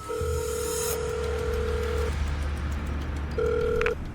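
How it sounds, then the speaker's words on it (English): A telephone ring tone sounds in two long buzzing pulses separated by a pause, steady and fairly clear over faint background hum. "Since Taya's mother resides in Florida, he reaches her via phone."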